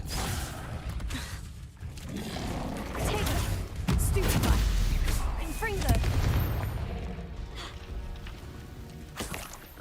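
A Confringo fire spell from the Hogwarts Legacy video game detonates in a series of loud, sharp blasts and crashing booms, with a rumbling burst in the middle and fainter impacts trailing off.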